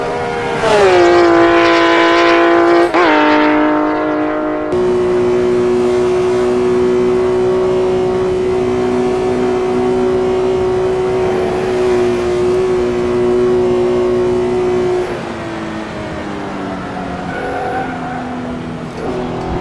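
A Porsche 911R engine in the racing game GT Legends at the Nurburgring holds a loud, sustained howl, with quick gear-change dips early on, then a steady drone and a shift in pitch near the end.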